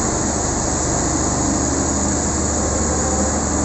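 Engine room machinery aboard the ferry KMP Aceh Hebat 2, a loud, constant mechanical drone with heavy low rumble and bright hiss, unbroken and close.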